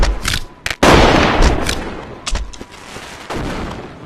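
Fireworks in Goat Simulator fire off as a rapid burst of sharp, loud crackling bangs and booms, several close blasts packed into a few seconds.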